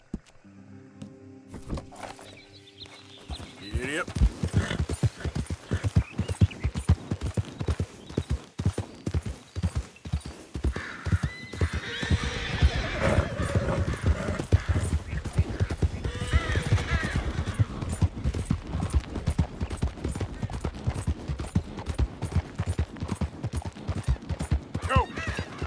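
Horse hooves clip-clopping in Red Dead Redemption 2, with Tennessee Walker and thoroughbred horses nearby: a long run of regular, close hoofbeats with occasional whinnies, and a person talking over the game sounds.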